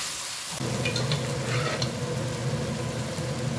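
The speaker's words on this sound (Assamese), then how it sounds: "এতিয়া আমি এইখিনি বিলাহীখিনি ভজা হ'ল বুলি ভাজি ল'ব লাগিব" Chopped tomatoes and spices sizzle in hot oil in a pan for a black chickpea curry, a steady close frying hiss that starts abruptly and continues, with light scraping of a spatula stirring the mixture.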